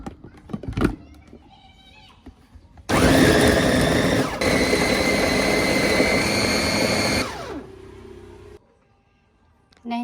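An electric blender grinds chicken dim sum filling with sesame oil, oyster sauce and soy sauce, a loud steady whir lasting several seconds between quieter kitchen clatter before and after.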